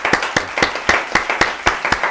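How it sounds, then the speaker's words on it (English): Applause at a talk-show style Democratic dinner event, heard as sharp close hand claps in a fairly even rhythm, about nine in a row, over faint crowd background. "Let's give a round of applause"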